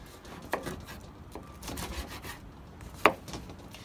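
A knife works through a 40-day dry-aged steak on a board, making soft, scattered rubbing strokes with a couple of sharper scrapes, close and fairly quiet.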